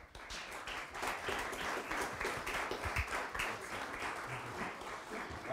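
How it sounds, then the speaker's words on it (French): Steady applause from an audience at an environmental awards ceremony, a dense even wash of many hands clapping, fairly distant and soft, with no voices over it. "On peut les applaudir."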